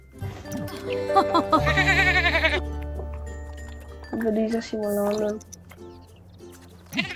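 Several sheep bleats from a ranch game in The Sims 4, wavering and nasal, with a low steady hum and a person talking over them.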